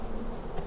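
Honey bees buzzing on a hive frame during fall hive management, a continuous soft drone of many insects heard close up with no talking.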